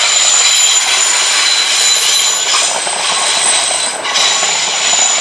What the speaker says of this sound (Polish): taka kolej tu jeździ.